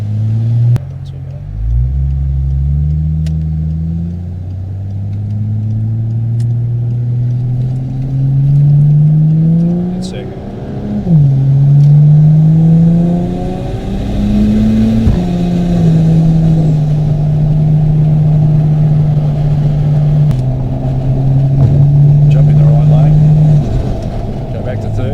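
A 1000HP turbocharged Barra car pulls at about half throttle up an on-ramp, a loud deep engine drone rising and falling through gear changes, heard from inside the cabin over a steady rumble.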